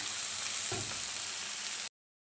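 A hilsa fish head fries with onion and chilli, giving a close, steady crackling sizzle for under two seconds before the sound cuts off.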